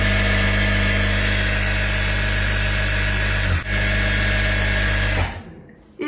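A paddle-driven thread-winding machine spins a bobbin at speed, giving a loud, steady mechanical hum with a strong low drone that briefly dips, then cuts off near the end.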